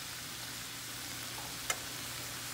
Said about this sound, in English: Give the shrimp, the veggies another good saute